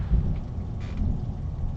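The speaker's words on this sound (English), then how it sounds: "That's a nice roar of thunder." Thunder in the video game Final Fantasy XVI, a low rolling rumble over a steady wash of rain, brief and fairly loud, with no talking.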